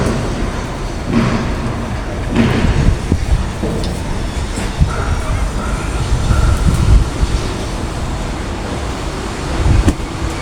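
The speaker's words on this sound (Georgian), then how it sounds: "როგორი ქარია სასიამოვნო." Wind blows outdoors in a steady, gusting rumble against the microphone, a low broadband roar that swells and eases throughout with no clear pauses.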